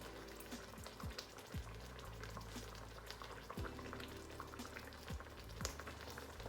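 A spinach sauce with tomatoes simmers in a pan, quiet bubbling with scattered soft pops and faint sizzle over a low steady background.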